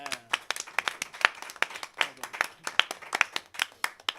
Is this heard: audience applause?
yes